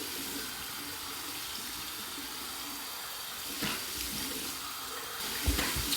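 Water runs steadily from a tap into a sink, a constant splashing hiss with small bursts of splashing near the end.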